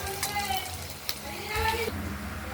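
Ground spice paste hits fried potatoes in a hot pan, producing a steady close sizzle and hiss with faint voices and tonal sounds in the background.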